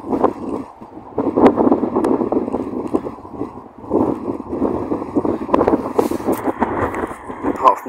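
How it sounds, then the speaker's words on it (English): Gusty wind buffets a microphone outdoors, rumbling low and steady with uneven surges and dips throughout, while a person talks over it nearby. "Apart from the wind, that is."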